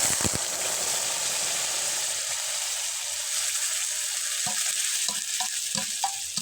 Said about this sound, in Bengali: এবার ভাতের পেস্টটা ঢেলে দেওয়ার পরে খুব ভালোভাবে নেড়েচেড়ে নিতে হবে।